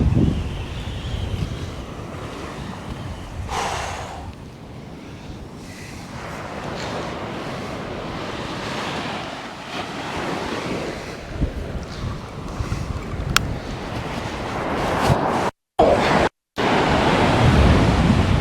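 Wind and surf on a sea-fishing beach at Sutton on Sea: waves roll in continuously under loud, gusty wind buffeting the microphone, with a couple of very brief dropouts near the end.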